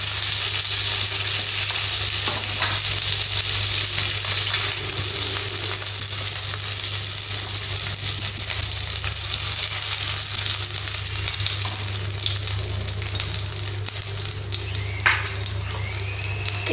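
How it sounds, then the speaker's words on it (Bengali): Katla fish sizzles in mustard oil in a pan, a loud, continuous crackling fry with occasional stirring scrapes and no talk over it. "খুব বেশি কড়া করে ভাজবো না, মিডিয়াম ভাজবো।"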